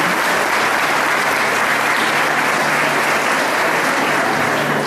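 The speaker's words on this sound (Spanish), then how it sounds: "dense un aplauso por la presencia de todos ustedes" Loud, sustained applause fills a school Mother's Day festival as the gathered mothers and families clap for themselves, a thick unbroken roar of many hands lasting the whole five seconds.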